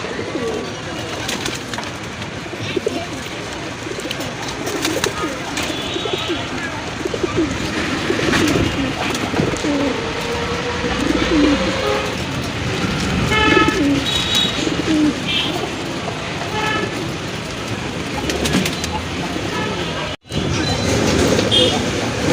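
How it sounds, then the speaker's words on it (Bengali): A male Rajgolla pigeon coos close by in repeated low, throaty calls against a busy background, with a person talking and other birds and a passing train audible. "এটা রাজগোল্লার একটা নর কবুতর মাশাআল্লাহ, প্রচুর ডাকে।"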